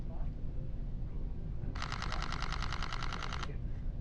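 A Sony A7R III fires a rapid burst in continuous high drive mode, a string of about twenty quick, evenly spaced shutter clicks lasting under two seconds, close and crisp against a quiet room.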